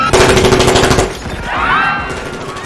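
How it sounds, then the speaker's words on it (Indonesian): Rapid bursts of gunfire crack out close by inside an airplane cabin, a dense automatic volley that cuts off abruptly, followed by a lingering rumble and ringing echo. "suara tembakan terdengar di dalam pesawat"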